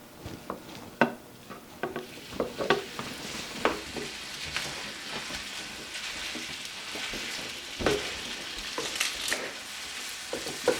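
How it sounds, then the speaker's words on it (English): Hamburger meat browning in a skillet, a steady crackling sizzle with scattered pops and occasional clinks of a utensil against the pan, close by. "while I'm browning my hamburger meat"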